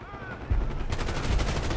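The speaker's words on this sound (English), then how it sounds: "We've got gunfire to the right." Gunfire in the Call of Duty Black Ops 6 campaign, set among desert dunes: rapid bursts of automatic fire crackle loudly over a low rumble, with no talk during the shots.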